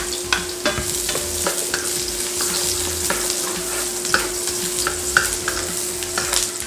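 Noodles stir-frying in a pan with fried shallots and garlic: a loud, continuous sizzle broken by regular scraping strokes of a spatula.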